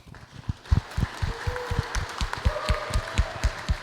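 An audience at an amateur radio club field day recap applauds a speaker, with sparse, distinct handclaps repeating in an uneven rhythm and sounding fairly close.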